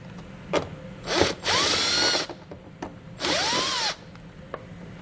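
A power drill backs out two 7mm bolts on a 2020 Buick Enclave, giving two short, close whirring bursts, each ending with a falling pitch as the bolt comes free, with light clicks between them.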